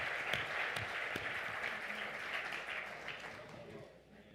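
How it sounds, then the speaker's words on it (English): Applause from a congregation after a choir performance, a quiet, fairly dense patter of clapping that fades out near the end. "Let's give them a round of applause."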